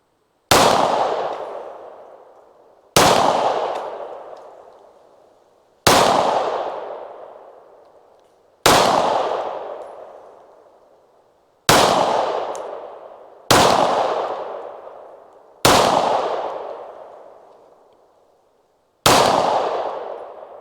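Eight 9mm pistol shots fired at a steel target from about 10 to 15 yards, each a loud sharp crack with a ringing metallic decay, spaced two to three seconds apart with no talking.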